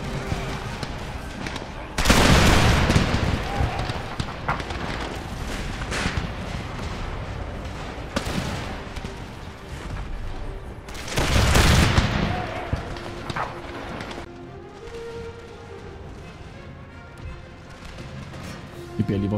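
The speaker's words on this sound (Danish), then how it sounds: "Vi beder lige vores kanoner nu om at skyde herover." Cannon and musket fire in the strategy game Empire: Total War, with a continuous crackle of volleys broken by two loud, heavy booming bursts near the start and middle.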